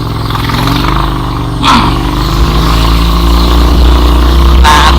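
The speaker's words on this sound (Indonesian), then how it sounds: "Motor mobil." Cars and motorbikes run along a mountain village road in southern Banten, Indonesia, their engines droning and revving steadily nearby, with a couple of brief clattering passes over a constant low rumble.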